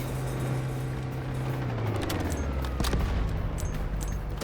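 Sustained automatic gunfire from a rifle in the Delta Force video game, a loud continuous stream of rapid shots emptying a 30-round magazine, with a heavy low rumble and brief sharp cracks near the end.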